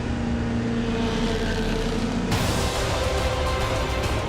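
Audi and Peugeot endurance race cars roar past at speed, a dense, loud, continuous engine drone with a sudden shift in tone partway through as one car takes over from another.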